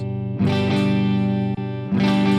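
Electric guitar chords ring out through a Donner Arena 2000 multi-effects processor with a changed cabinet simulation, loud distorted strums with a long sustained decay, a short break, then another strum near the end.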